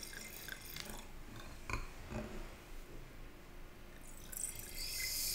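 White Grüner Veltliner wine poured into a glass at a home tasting, a soft steady trickle and splash with faint drips, quiet and close, no talking.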